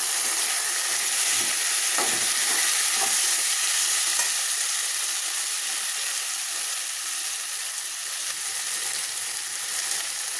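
Ginger garlic paste sizzles and fries steadily in a hot pan while being stirred for a potato biryani, a continuous bright hiss with a few soft scraping stir sounds near the start.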